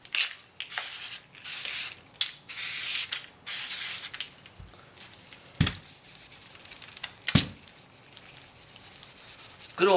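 A Scotch-Brite pad scrubs a plastic rifle magazine in bursts of dry abrasive rubbing, several strokes in the first four seconds, then sparse scuffs and a few sharp knocks, close and without talk.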